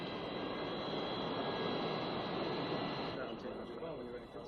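A jet airliner rolls for takeoff at San Francisco International Airport, its engines a loud, steady roar that fills the scene and eases slightly near the end, with radio chatter faintly beneath.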